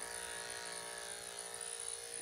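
Electric dog clipper trimming the body coat of a pet schnauzer, a steady close buzzing hum that runs continuously and evenly at low level with no talk.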